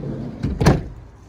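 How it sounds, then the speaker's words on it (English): The passenger sliding door of a 2016 Ford Tourneo Custom Titanium van opens with a short rolling scrape, then a firmer thud-like clunk, heard close and alone. "Opening up your passenger sliding door, again, not too bad."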